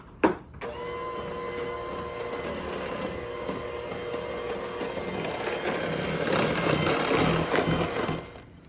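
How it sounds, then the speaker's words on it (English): Electric hand mixer running steadily in a bowl of vanilla yogurt fudgesicle mixture, a continuous whirring motor drone that swells slightly louder toward the end and then stops. "Now we're going to use the mixer."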